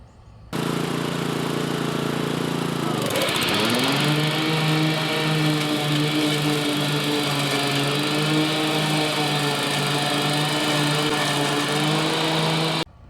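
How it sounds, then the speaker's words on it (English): A DR SP30 30-inch mower runs at a steady idle, then the blade engages with a sudden bog and recovers into a louder, higher whirring drone that holds steady until the engine cuts off, close up with no talking. "I want to move to a clip right now showing just what happens when you engage the blade"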